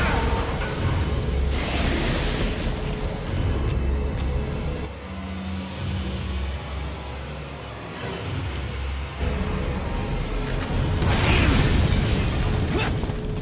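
Heavy rocket launcher blasts and booming explosions hit a xenomorph boss in a video game fight, with a dense, loud, continuous roar of bursts and rumble throughout, surging again toward the end.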